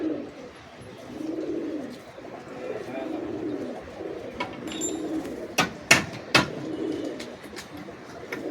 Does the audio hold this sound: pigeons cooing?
yes